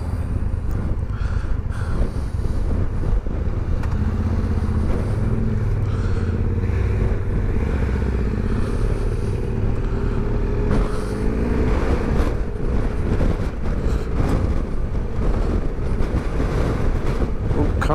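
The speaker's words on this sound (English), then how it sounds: "Oh, kind of windy there." Steady, loud wind buffeting the microphone while riding a 2018 Triumph Tiger 1200 motorcycle along Donegal's Wild Atlantic Way coast, a continuous roaring rush with the engine's low drone underneath.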